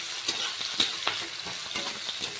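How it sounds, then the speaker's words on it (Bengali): Chopped onions sizzle gently in oil, a soft frying hiss punctuated by several light scrapes and taps of stirring. "পেঁয়াজটাকে এখন হালকা করে একটু ভেজে নিতে হবে"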